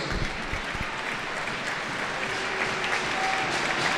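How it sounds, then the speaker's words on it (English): Ice hockey crowd at a Phantoms versus Hull Pirates game applauding the visiting Pirates, a steady wash of clapping from the stands that holds at even volume throughout, with faint crowd murmur underneath. "So the Phantoms fans stay in the stands and applaud the Pirates."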